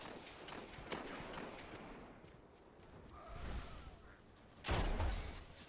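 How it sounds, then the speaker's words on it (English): Scattered gunfire in the video game Destiny pops and bursts, fairly faint and distant, with a louder blast near the end, over a low background rumble. "Oh, I hear gunshots."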